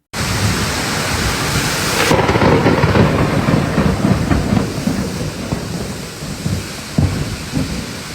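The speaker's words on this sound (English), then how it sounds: "Torrential rains have been occurring since the passage of the eye of the cyclone" Torrential rain pours steadily during cyclone flooding on Réunion, a loud continuous roar of water and wind with deep rumbling underneath, unbroken throughout and with no voices.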